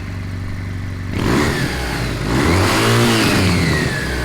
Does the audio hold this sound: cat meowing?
no